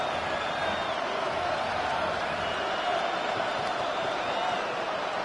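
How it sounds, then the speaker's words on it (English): Dense, steady roar of a full stadium crowd at Arrowhead in the football video game Madden 26, loud and continuous without letup, like a wall of cheering noise during a third-down play. "The Arrowhead crowd in full roar."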